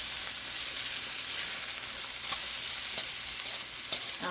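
Garlic and spinach stirred in a hot pan with peppers and carrots give a steady, close sizzle and crackle that carries on for several seconds, with brief scraping stirs and no talking.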